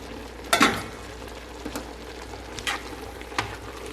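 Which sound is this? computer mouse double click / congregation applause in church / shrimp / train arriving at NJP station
shrimp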